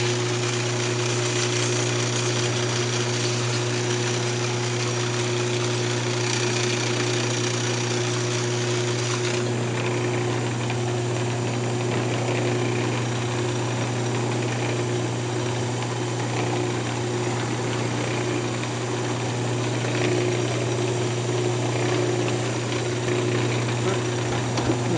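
A wood lathe spins a turned wooden rattle while it is sanded through the grits, giving a steady close machine hum with a constant low drone and a faint scratchy hiss over it for the whole stretch.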